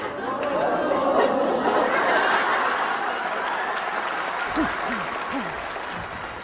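An audience at a talk claps in a dense, steady wash of applause mixed with chatter and some chuckling, while a voice speaks briefly near the end.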